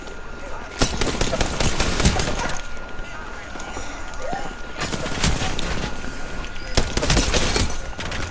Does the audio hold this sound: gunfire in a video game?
yes